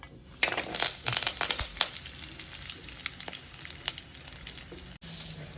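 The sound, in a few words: mutton pieces frying in a pan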